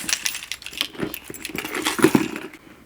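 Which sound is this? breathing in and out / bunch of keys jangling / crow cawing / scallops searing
bunch of keys jangling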